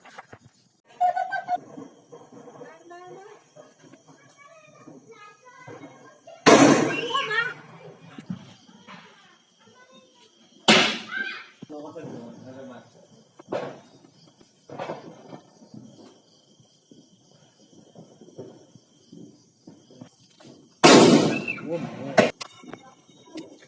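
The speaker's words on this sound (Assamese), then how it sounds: "আৰু আমি পূৰা বঢ়িয়াকৈ বোমা মাৰি আছোঁ" Several sharp, loud Diwali firecracker bangs burst out at wide intervals while people chat continuously in the background.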